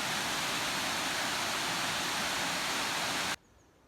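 Waterfall at Pitlochry in the Scottish Highlands pouring down a cliff, a steady, loud, broadband roar of rushing water heard up close without any voices, cutting off abruptly near the end.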